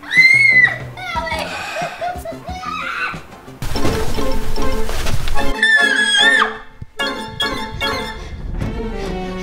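Children play noisily indoors, shouting, chattering and giggling over one another, with bursts of laughter and a clattering crash partway through, continuous and loud throughout.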